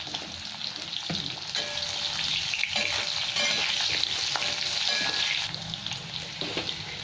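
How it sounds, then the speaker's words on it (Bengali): Potatoes frying in hot oil with black cumin seeds, stirred in a pan: a loud continuous sizzle with scraping stirs and spatula clicks close by, no talking. "আলুগুলো 1-2 মিনিট ভেজে নেব"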